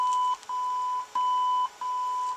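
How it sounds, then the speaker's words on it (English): Steady electronic beeps from the original AM radio of a 1967 Ford F100 pickup, in a repeating pattern of four long tones with short gaps between, clear and close against a faint background hiss. "It's going to beep"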